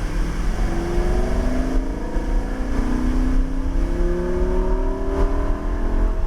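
A car engine rising in pitch as the throttle is rolled on during a driving run through cones, a steady loud drone with harmonics sweeping upward, wind and road noise underneath.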